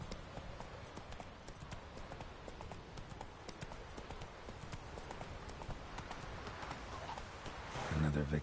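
Roach the horse galloping in The Witcher 3, a fast, steady clip-clop of hooves that runs continuously and close, building slightly louder near the end.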